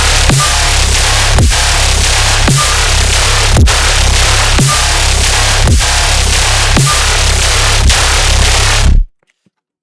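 Tearout gun growl bass built in FL Studio with Serum, a loud, dense, distorted growl repeating in even rhythmic hits with sharp transients, heavily effected and modulated, then cutting off abruptly near the end.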